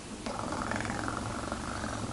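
A cat purrs steadily and close, a soft continuous rumble that swells after a brief quiet start and holds to the end, with no clear meow standing out.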